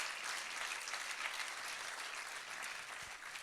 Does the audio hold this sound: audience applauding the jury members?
yes